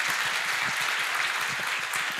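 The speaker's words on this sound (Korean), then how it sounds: "박수 한번 부탁드립니다." Steady applause from a workshop audience after a panel talk on restaurant companies expanding overseas, an even wash of many hands clapping throughout, fairly soft and without voices.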